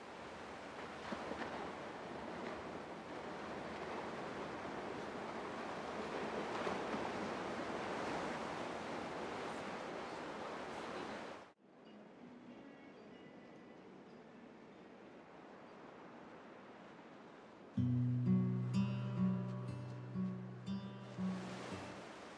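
Ocean waves wash onto the beach at Ocean City on a summer night, a steady, rushing surf close by for about eleven seconds, then it gives way to quiet ambience and music.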